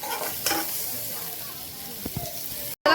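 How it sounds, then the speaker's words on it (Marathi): Onion and coconut masala with cumin and salt roasts in a pan, producing a dense, close hiss with a few stirring scrapes before the sound cuts out briefly near the end. "मसाला भाजतोय"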